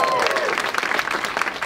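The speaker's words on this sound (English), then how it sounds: "Let's give it up one more time for Jason B." Comedy club crowd in Sacramento claps and cheers after a comedian's set, a busy wash of hands that thins toward the end, with a voice briefly rising above it at the start.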